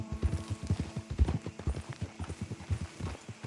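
Horse hooves clip-clopping in Red Dead Redemption 2: a brisk, even run of sharp hoofbeats close by, continuous and alone throughout.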